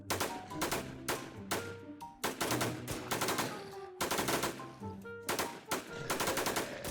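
Rapid automatic gunfire rattles almost continuously in WarZ Infestation, bursts of loud shots following one another with only brief gaps, close and dominant with no talk over it.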